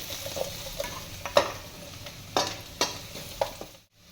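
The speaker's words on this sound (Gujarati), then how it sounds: "હલાવી લઈશું થોડીક વાર." Soup ingredients for Manchow soup frying in a pan while being stirred, a soft sizzle broken by several sharp scraping and clanking spoon strokes, close up, ending in a brief silence.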